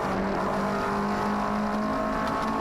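MG Trophy race cars circuit racing at Donington Park, a steady loud engine drone with sustained pitch, cars running together at speed with no pause.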